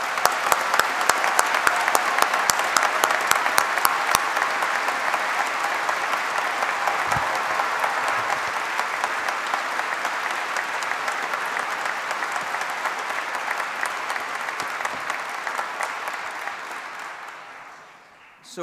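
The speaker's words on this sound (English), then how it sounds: "let's give these graduates a big collective round of applause." Sustained audience applause at a graduation ceremony, a large crowd clapping steadily for about eighteen seconds before fading out at the end, with no talk over it.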